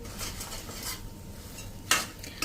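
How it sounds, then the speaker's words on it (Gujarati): Ground cashews and peanuts are stirred in a pan over a low flame. A spoon scrapes and clinks against the metal, with soft rustling and a sharp knock near the end, heard close and without speech. "એને પણ આપણે સ્લો ફ્લેમ ઉપર મિક્સ કરી લેશું"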